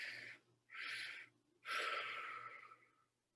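Slow, deep breaths during a guided meditation, drawn in and pushed out in three close, airy phrases with short quiet pauses between them, the last exhale longest and fading away.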